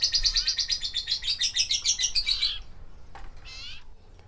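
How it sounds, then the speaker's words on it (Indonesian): A tame common iora (cipoh) bird chirps close by in a rapid, repeated trilling series of bright notes, then pauses before a few shorter, softer calls. "Nah, burung cipo saya ini."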